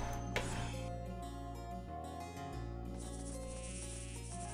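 A bee in a fantasy adventure video game gives off a thin, steady insect buzz that runs the whole time under layered game sounds, with no one talking.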